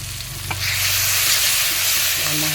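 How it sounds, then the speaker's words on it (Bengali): Ginger and cumin spice mix frying in a pan, a loud continuous sizzle with a stir or two near the start and no talking. "মশলাটা আমি ভালো করে কষে নেব।"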